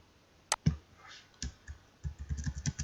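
Scattered key clicks and taps, a few isolated presses followed by a denser burst of quick typing on a keyboard, close and fairly quiet.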